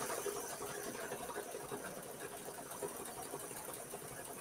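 A sewing machine runs continuously, laying down small, even stitches with a steady, dense mechanical whir close by, with no voices.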